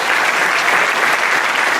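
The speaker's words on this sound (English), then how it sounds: "One more round of applause for our entertainers today." A crowd at a Darwin Day event in Sacramento gives a round of applause for the entertainers, loud, steady and close, with no gaps or voices standing out.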